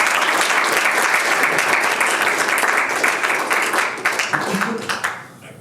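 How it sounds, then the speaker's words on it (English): Loud audience applause fills a conference hall as two speakers are welcomed onstage at a regional music industry keynote in Tamworth, steady for several seconds before thinning into scattered claps and fading out. "Please welcome Sally-Anne and Tim to the stage with a very warm round of applause."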